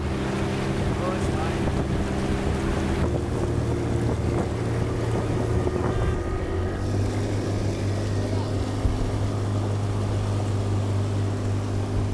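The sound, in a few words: motorboat ride on the water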